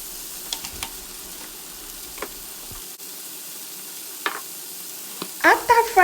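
Seasoned chicken with onion and curry seasoning frying in a pan, a quiet background hiss broken by occasional stirring scrapes, then louder sizzling bursts near the end.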